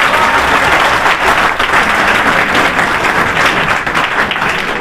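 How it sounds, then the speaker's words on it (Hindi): A crowd at a Haryana gurukul opening ceremony claps loudly for themselves, a dense, sustained roar of applause that stays strong from start to finish. "एक बार जोरदार अपने लिए तालियां बजाइए।"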